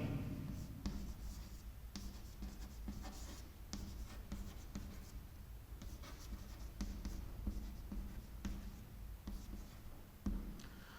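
Ballpoint pen scratching across paper while a ledger entry is written out, with steady close strokes and short pauses between words, fairly quiet and without speech.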